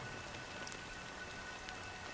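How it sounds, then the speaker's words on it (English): Steady rain falling in the video game Honkai Star Rail, a dense, even hiss of drops with faint scattered patters, continuous and moderately quiet with no voices. "But it's still raining."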